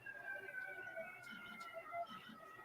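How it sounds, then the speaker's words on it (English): A fire truck siren wails at a distance while the truck passes, with rising and falling tones that echo faintly over low background hum. No one speaks. "Yeah, fire truck for sure."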